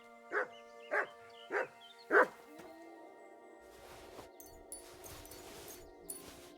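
Mutt the dog in Kingdom Come: Deliverance II gives four sharp, evenly spaced barks close by, then quieter game ambience and faint distant sounds follow.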